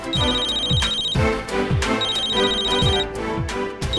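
A telephone rings close and loud with a bright, warbling electronic ringtone that pulses in repeated bursts. No voices are heard.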